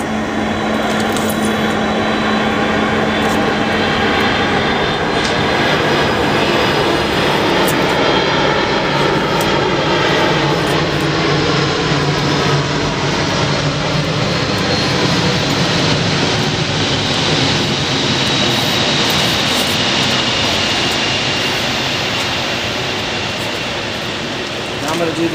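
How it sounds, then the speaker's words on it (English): C-17 military transport aircraft flying over, a loud, sustained jet roar lasting the whole stretch with a slow sweeping Doppler whine, then easing slightly at the end. "Here comes the C-17. Charleston Express."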